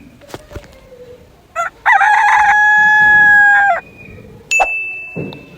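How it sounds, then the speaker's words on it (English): A rooster gives one loud, drawn-out cock-a-doodle-doo close by, with a few short clucks and knocks around it and a bright ringing tone after. "This is chicken."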